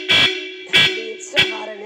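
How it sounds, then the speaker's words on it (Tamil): Three short, loud horn honks, close and evenly spaced, each a brief blaring burst followed by a quiet gap. "ஹார்ன் அடிங்க சார்"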